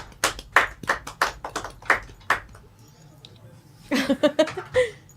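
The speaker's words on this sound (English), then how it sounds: "Round of applause for Dylan." A small podcast group greets a guest named Dylan with sparse, separate hand claps, about a dozen sharp claps close by, then a burst of overlapping talk and laughter near the end.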